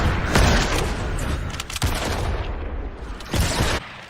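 Rapid gunfire rattles through a Fortnite World War One trench battle mode, with dense bursts and booming shots layered over each other, loud and close, with a few heavier reports standing out near the start and end.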